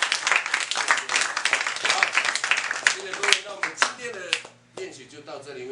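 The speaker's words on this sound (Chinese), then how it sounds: "可以的话就拍手吧" A group at a harvest festival dance practice claps and applauds in a close, brisk burst of many hands that thins out toward the end, with voices speaking over the last part.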